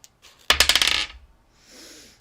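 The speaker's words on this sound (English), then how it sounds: "Let me roll a dice" Small dice tumble onto a hard surface in a quick burst of clattering rattles that settles within about half a second, followed by a faint soft rustle.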